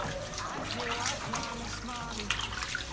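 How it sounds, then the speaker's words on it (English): Lemongrass being rinsed and soaked in water while cooking Deltan ukodo yam pepper soup, with a steady close wash of splashing, trickling water running throughout. "So I'm going to wash it up and soak it in there."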